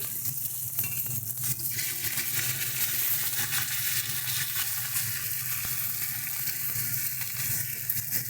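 Steady sizzling of fish heads frying in hot oil, crackling continuously at close range with a low hum underneath.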